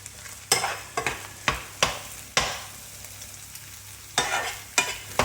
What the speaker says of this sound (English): I'm not breaking the egg up too much because it's nice to have big chunks of egg in an egg fried rice